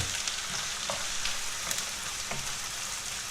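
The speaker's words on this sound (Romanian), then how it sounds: "Apoi punem ceapa." Onion fries in hot oil with a dense, steady sizzle, and scattered scrapes and taps of stirring run through it; no voices.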